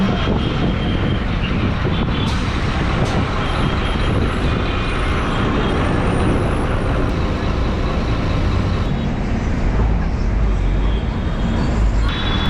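Steady heavy engine rumble of a large city bus idling and slowing at the Madhavaram roundabout bus stop in Chennai, with a continuous low roar and faint air-brake hissing throughout.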